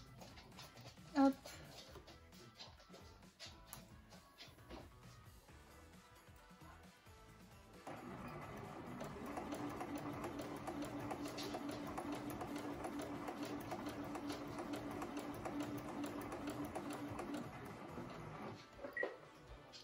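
A sewing machine stitching a top starts up after quiet handling noises and runs steadily for about ten seconds, a close mechanical whir that stops near the end, with soft speech around it.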